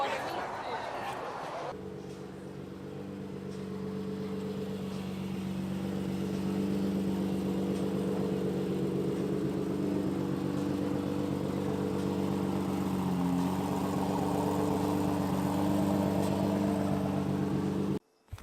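Ferrari LaFerrari and McLaren P1 supercars in race mode, heard from the rear as a steady, droning idle that kicks in after a short pause and holds, with some voices around.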